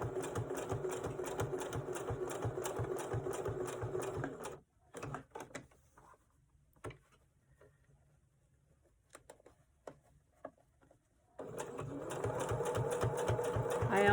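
Sewing machine stitching a fabric wallet, fast rhythmic mechanical clatter in two loud bursts, first alone, then a quieter pause with faint handling clicks, then stitching resumes.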